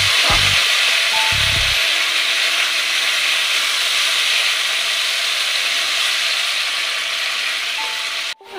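Fish curry masala sizzling hard in oil as water goes in, a loud, close, steady hiss with a few short clunks near the start and a sharp knock at the end.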